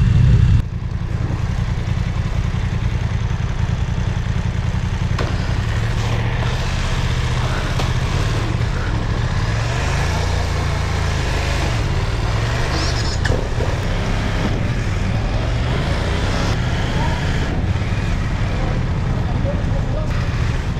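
BMW F900 R motorcycle pulling hard on a road between Manila and Tagaytay, a steady loud engine drone with wind rush throughout, while riders chat over it.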